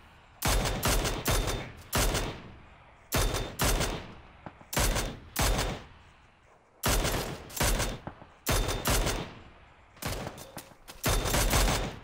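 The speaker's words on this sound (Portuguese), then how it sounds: "Tá atirando em mim." Rapid bursts of rifle and automatic gunfire in the video game PUBG on Xbox One come in repeated loud volleys separated by short pauses.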